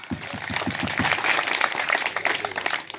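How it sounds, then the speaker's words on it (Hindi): A crowd at a farmers' protest meeting against cement factories in Rajasthan claps for a farmer leader, opening with a few sharp individual claps that swell into dense, fairly loud applause lasting about three seconds. "जोरदार तालियां"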